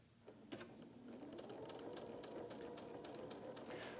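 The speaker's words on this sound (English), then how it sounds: "So I'm going to start sewing from here." A sewing machine runs steadily, stitching fabric for quilt blocks with a continuous close mechanical whir and faint rhythmic clicks throughout, with no voices.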